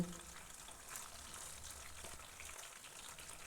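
Amudi fish frying gently in a pan over low gas, a faint, steady sizzle and crackle continuing evenly throughout with no one speaking.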